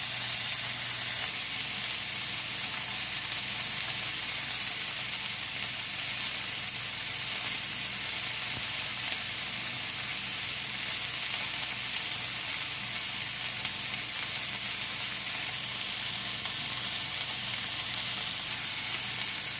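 Steak tips sizzle in a cast iron pan with a steady, loud, close frying hiss that carries on unbroken throughout, with no voices.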